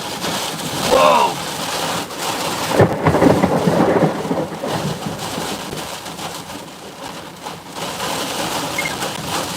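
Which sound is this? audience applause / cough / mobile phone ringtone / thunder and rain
thunder and rain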